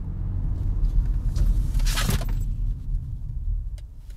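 A 2023 BMW 128ti, front-wheel drive, braking hard on the road: steady low engine and road rumble with a brief rising hiss of tyre slip near the middle, heard from inside the car without talk.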